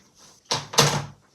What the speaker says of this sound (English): I'm going to use that to get through the door.